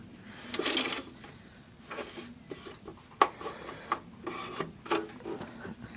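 Cloth or tissue rubbing and wiping cleaner residue off the casing of a Technics SH-8017 graphic equalizer, a close, scratchy rasp in bursts with a few sharp ticks and knocks.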